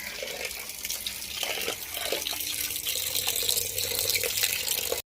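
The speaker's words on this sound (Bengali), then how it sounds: "তো মাংসটা ধোয়াধুয়ি করছি" Tap water runs steadily into a sink while goat meat is washed, a continuous splashing flow with small clinks of handling, fairly close and unbroken until it cuts off at the end.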